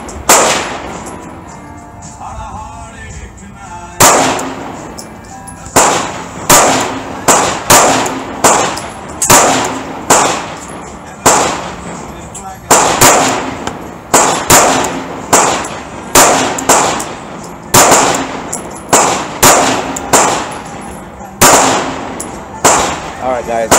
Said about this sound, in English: I'm going to shoot the mag the same way.